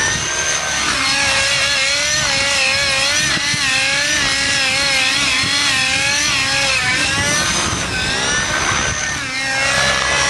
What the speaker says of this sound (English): All right, so Ben trying out the GP exhaust.